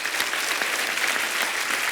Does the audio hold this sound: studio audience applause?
yes